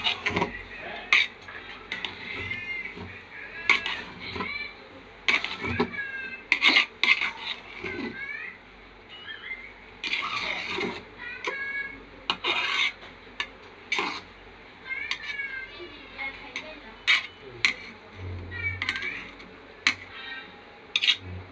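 A spoon scrapes and clinks against a cooking pot as rice pilaf is stirred with sugar and green chillies, bursts of metallic scraping in an uneven rhythm, close and fairly loud, with no talking.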